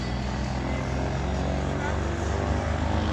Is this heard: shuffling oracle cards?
no